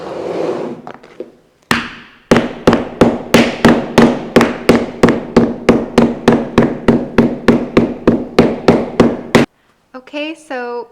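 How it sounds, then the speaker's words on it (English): Rapid run of about thirty sharp, loud hammer blows on a leather sandal held over an anvil, struck at a steady even rhythm with a few separate taps before it and a brief voice after. "This would be a good time to use your anvil. If you have one, you just place this over the anvil."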